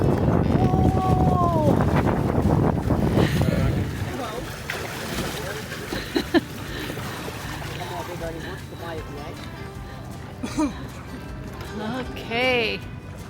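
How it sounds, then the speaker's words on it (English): Wind gusts across the microphone on a sailboat off Boracay, loud and rushing at first, then easing into lighter breeze while people talk and call out over it. "There's the wind."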